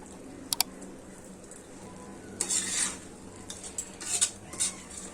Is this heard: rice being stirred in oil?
yes